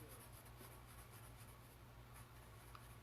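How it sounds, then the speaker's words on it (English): A Sharpie pen scratches steadily across paper while sketching, a faint, continuous dry rubbing with small strokes over a low background hum. "this whole Sharpie on the paper has a similar kind of sound to it"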